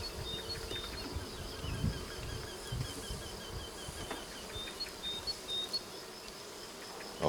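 Honeybees buzzing around an open hive during a frame inspection, a dense, steady hum of many insects close by with individual bees droning past.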